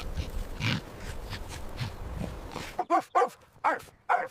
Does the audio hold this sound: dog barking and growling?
yes